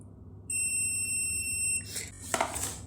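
A multimeter in continuity mode gives a steady, high-pitched beep for about a second and a half when its probes touch, followed by brief handling rustle.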